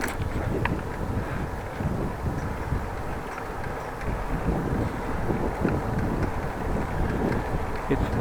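Wind buffets a microphone in a steady, loud rumbling roar while cycling on a Dutch bike on a warm evening, with gusty fluctuations and no clear speech.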